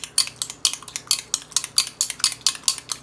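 A wire whisk beats an egg white mixture for homemade chicken nuggets in a bowl, a fast steady run of about a dozen sharp metallic clicks and scrapes, close and alone.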